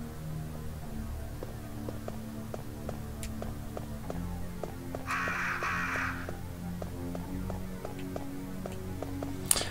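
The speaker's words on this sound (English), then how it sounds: "there's just like a room in the mansion full of crows" Crows caw now and then in a mansion room in Resident Evil 1 Director's Cut, over a steady backdrop of low, eerie game music with a ticking rhythmic pulse.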